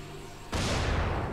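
Explosion in the zombie video game Dying Light: a sudden loud blast cuts in after a half-second of low background, then leaves a dense, booming roar that holds to the end.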